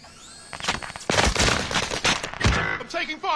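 Dense rapid gunfire and explosions from a Call of Duty match, loud bursts layered over one another with repeated sharp blasts, and a voice calling out briefly amid the shooting.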